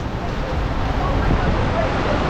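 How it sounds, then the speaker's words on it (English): Heavy rain driven by wind pelts the camera at an outdoor theme park in a dense, continuous roar with no gaps. "It's raining sideways at the camera."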